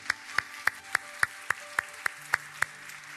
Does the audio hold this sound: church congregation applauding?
yes